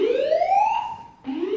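A building fire alarm wails close and loud, a rising electronic siren tone that sweeps up, breaks briefly, then starts rising again, heard alone in a lecture hall.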